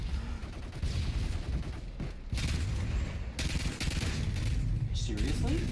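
Continuous gunfire from Call of Duty: MW3 multiplayer fills the whole stretch, dense rapid shots and bursts with a steady loud wash, while someone speaks over it at times.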